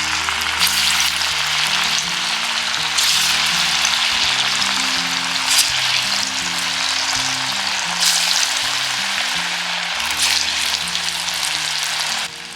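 Dal bhaji pakoda batter frying in hot oil over a medium flame, a steady close sizzle with bursts of crackle that runs throughout without any talk.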